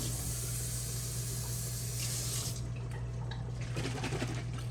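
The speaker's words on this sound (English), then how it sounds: "I put a little bit of water in there so I can rinse that bottle all the way out." Water rushes into an 18-ounce Sweet Baby Ray's barbecue sauce bottle to rinse it out, a loud, steady splashing fill under a constant low hum.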